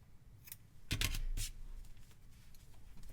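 Crochet yarn snipped with scissors, a couple of quick close crisp cuts in the middle of an otherwise quiet stretch.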